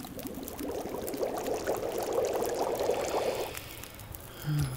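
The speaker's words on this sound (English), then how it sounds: "Alright, let's cook this coffee." Coffee brewing over a fire in The Long Dark, a steady pouring, bubbling liquid sound that swells through the middle and then eases off, heard alone with no talk.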